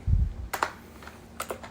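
A handful of crisp keystrokes are typed on a computer keyboard to enter a terminal command, coming as scattered soft clicks over a faint steady fan hum.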